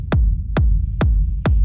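A basic techno rumble synth: four evenly spaced kick drums with a steady low, throbbing sub-bass filling the gaps between them, loud and alone with no voices.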